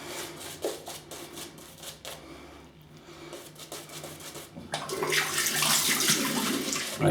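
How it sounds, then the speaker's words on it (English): Water is poured onto a puck of shaving soap in a small bowl: soft trickling and splashing, quiet at first, then a fuller, brighter rush of pouring toward the end. "just going to add some water to this."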